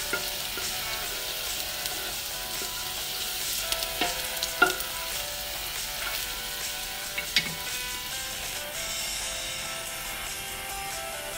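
Ingredients for Arabic gabout laham stirred and fried in a pan until golden brown, giving a steady, loud sizzle with occasional scraping of the utensil and no talking.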